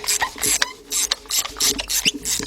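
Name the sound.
ratchet with 16 mm socket loosening Nissan Altima spark plugs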